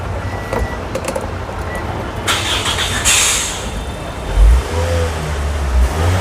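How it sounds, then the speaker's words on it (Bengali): A push-start Toyota Noah with tiptronic gearbox and CNG conversion starts up and revs, the engine turning over then rising in a couple of moderate revs over a steady idle rumble, no talking. "এটা হচ্ছে পুশ স্টার্টের গাড়ি,"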